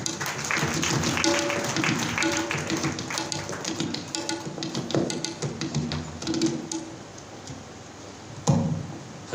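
Clapping from a congregation at a prayer meeting at a revival center in Bangalore, a steady patter of many hands with voices mixed in, ending in a brief louder burst.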